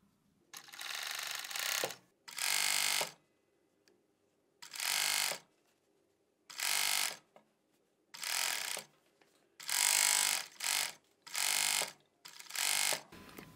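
A 4-thread overlock serger runs along the ribbed neckline of a sweatshirt in about nine loud, steady bursts of a second or so each, separated by short pauses.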